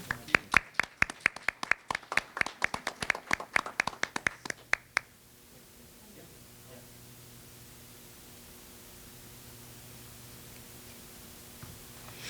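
Audience applause at a town meeting: a burst of crisp, scattered clapping from a modest crowd that stops abruptly, leaving quiet room hiss.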